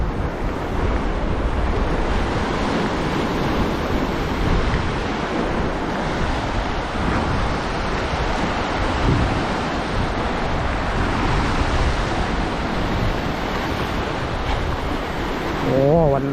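Loud, continuous roar of strong wind and crashing waves, with heavy wind buffeting the microphone throughout.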